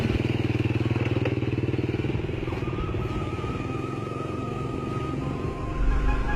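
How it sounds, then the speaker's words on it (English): Scooters rev and pull away together, a steady close engine drone with rumbling low end and a brief louder burst near the finish. "The men set off on scooters to seek their fortune."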